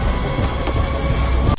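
A high-speed train in the 2022 film Bullet Train runs with a loud, steady rumbling roar throughout a short moment.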